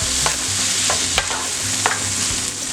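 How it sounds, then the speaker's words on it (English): Vegetables sautéing in olive oil in a pan, with garlic among them, give a steady close sizzle throughout while a utensil stirs and scrapes in occasional short clicks. "saute them."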